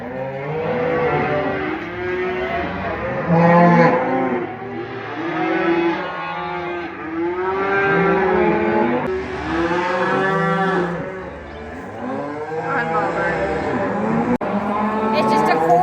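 Cows and calves moo loudly in a pen during weaning, a near, overlapping chorus of long, drawn-out bellows that repeat one after another for the whole stretch.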